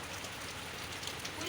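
Steady rain falls as a soft continuous hiss at moderate distance, with no clear talk over it.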